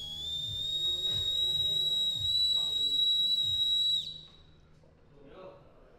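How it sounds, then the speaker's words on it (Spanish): A whistle blown backstage in one long, loud, steady shrill tone lasting about four seconds, then cut off abruptly, over low background murmur. "lo más que me gusta es el silbato"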